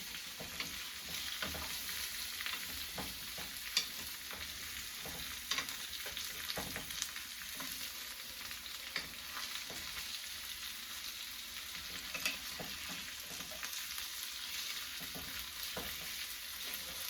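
Sweet potato and chorizo sizzle steadily in a hot pan while a spatula scrapes and stirs them with irregular clacks, close and continuous, no voices.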